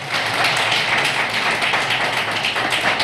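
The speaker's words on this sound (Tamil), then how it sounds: "அதனால் மீண்டும் ஒரு முறை கை தட்டுங்க." An audience clapping their hands together, a dense, continuous wash of applause that stays loud and even throughout.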